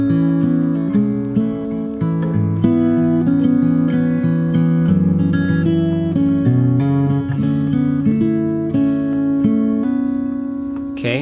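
Fingerstyle guitar plays the opening four bars of the second verse of a song from Hamilton, a steady flow of picked chords and melody notes, close and clear with no voices.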